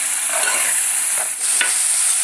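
Tomato sauce with black pepper and oregano is stirred in a pan over moderate heat, giving a loud, continuous sizzle with a couple of brief spoon scrapes and no voices.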